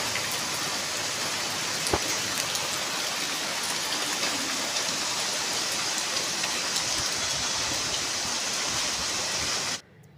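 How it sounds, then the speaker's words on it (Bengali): Heavy rain pours down steadily and loudly close by, a dense, continuous roar of drops hitting surfaces that holds for about ten seconds before cutting off abruptly at the end. "হট করে দেখো প্রচণ্ড বৃষ্টি, শুনতে পাচ্ছি আওয়াজ, কত জোরে জোরে আওয়াজ হচ্ছে।"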